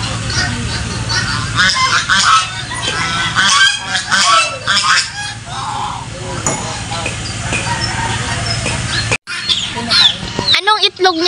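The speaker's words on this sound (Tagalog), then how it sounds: "Daming gansa." A large flock of farm geese honking loudly and continuously, dense overlapping calls, with a voice briefly speaking over the din near the end.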